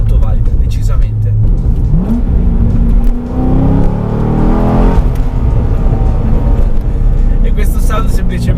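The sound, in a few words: Corvette C6 engine revving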